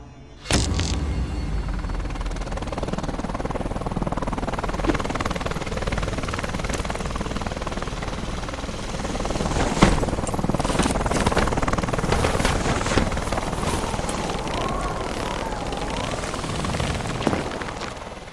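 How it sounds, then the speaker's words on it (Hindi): Helicopter sound effect for Call of Duty Modern Warfare 2019, set over a jungle: a steady, loud rotor-and-engine roar runs nearly the whole time, broken by a few sharp booms or bangs partway through, with no talking. "हेलीकॉप्टर का आवाज भी दे देते हैं"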